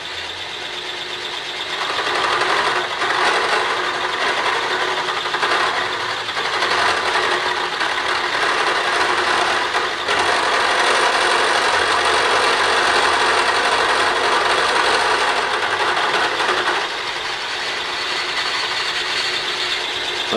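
A machine tool taking a cut on a Mattracks ATV track part, a steady close mechanical whirr and grinding that runs continuously for most of the stretch before easing off near the end, no voices.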